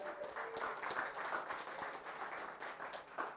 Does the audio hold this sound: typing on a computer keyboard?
no